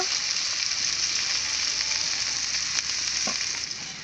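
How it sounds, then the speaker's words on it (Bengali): Pomfret fish frying in oil in a pan, a loud, steady, close-up sizzle that hisses on without pause, no voices. "দেখে নেব ভালো করে ভেজে নিয়েছি"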